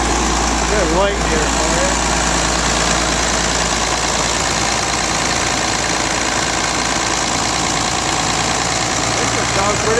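A rebuilt tractor engine idles steadily, close and loud, with a continuous low rumble and knocking throb throughout while someone speaks briefly over it.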